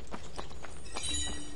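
Horse hooves in Assassin's Creed Brotherhood: a quick, even clip-clop of several hoofbeats, close and moderately loud over a faint steady background.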